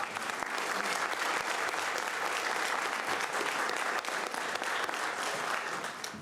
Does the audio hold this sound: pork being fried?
no